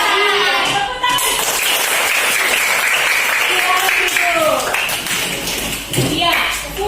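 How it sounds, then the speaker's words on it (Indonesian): Children clap their hands together during a classroom movement and dance exercise, a dense, steady patter of clapping under a voice and kids' voices. "Tepuk tangan."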